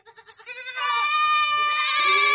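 Goats offered for sale bleat loudly and close by, one drawn-out wavering cry following a few short quick bleats, with no other sound around them.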